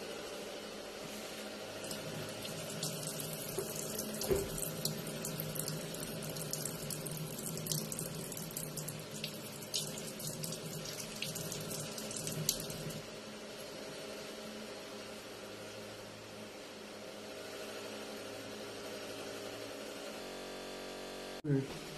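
A rubber eraser is washed in soapy water under a running tap, with a steady close splash and gush of water that continues for most of the clip before cutting off near the end.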